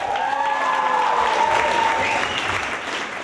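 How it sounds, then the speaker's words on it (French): Audience applause at an improv comedy match show, a loud, dense burst of clapping from a crowd, with a voice heard briefly over it. "Evelyne, Alexandre et Marie-Pierre, on les applaudit."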